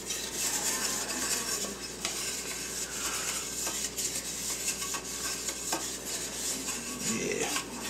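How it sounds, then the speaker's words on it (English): Bread pans being greased with cooking spray for beer bread, a steady hissing spray with scraping and rubbing against the metal pans, continuous and close, with no talking. "Actually grease up the pans pretty good."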